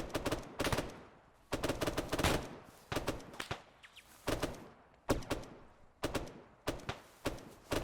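Arma 3 multiplayer milsim gunfire, repeated loud rifle bursts in a steady rhythm of short volleys about every second, close and punchy with brief pauses between them.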